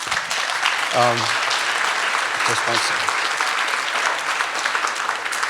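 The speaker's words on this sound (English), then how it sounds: "Applause for that." An audience at a community event in Duluth claps in sustained, loud applause while a voice speaks briefly over it.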